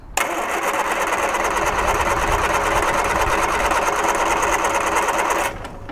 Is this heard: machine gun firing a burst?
no